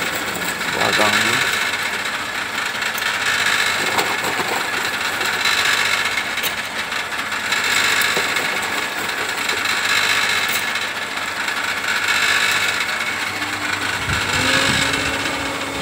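An electric motor hums and whirs steadily while a small machete is being made, with rising and falling surges in loudness and someone talking over it.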